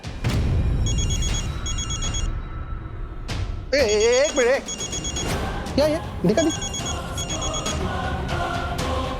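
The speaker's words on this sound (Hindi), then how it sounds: "अरे किसी का फोन बज रहा है" A telephone rings insistently in a repeating trill pattern while people talk over it, with a loud warbling tone and clatter mixed in.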